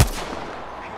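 A single sharp gunshot from a firefight in the battle royale game Apex Legends, loud and close at the onset, then a rumbling tail fading away over a second.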